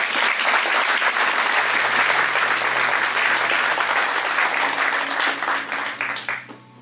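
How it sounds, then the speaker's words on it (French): A church congregation applauds and acclaims God, sustained loud clapping and cheering from a large crowd that tapers off at the end. "On acclame Dieu très fort, s'il vous plaît."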